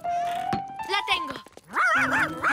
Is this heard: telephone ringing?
no